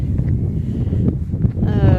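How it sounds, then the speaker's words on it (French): Wind blows outdoors and rumbles steadily across the microphone, with gusty noise throughout. A faint tonal sound rises near the end. "il y a du vent"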